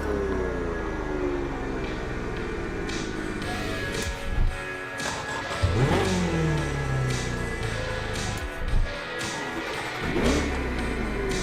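A car engine in the racing game The Crew Motorfest revs steadily at close range, rising in pitch and surging in several sharp bursts over a constant droning idle.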